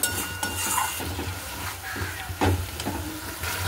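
Potatoes tipped into thick spiced masala in a frying pan, with soft sizzling, scraping stirs and occasional utensil knocks against the metal pan, steady and close.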